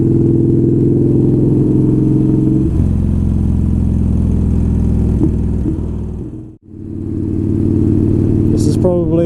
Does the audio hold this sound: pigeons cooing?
no